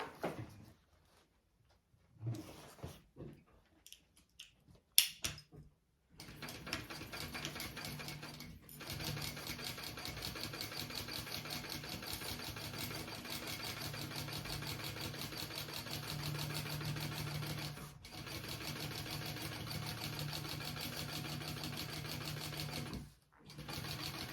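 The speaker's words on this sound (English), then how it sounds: "I'm going to sew along the bottom here" A sewing machine runs steadily along the bottom seam of a piece of fabric, a long continuous whir lasting many seconds after a few brief starts and stops, close and loud, with no talking.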